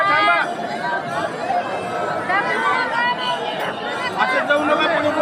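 Dense crowd chatter fills a busy Vitthal temple on an Ekadashi evening, many overlapping voices murmuring close by in a steady, continuous hubbub.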